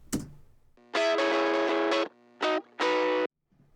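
Tube saturation circuit adds distortion to a strong audio signal: a short burst of sound, then three sustained buzzy, harmonically rich tones with gaps between them, loud and close, ending in silence.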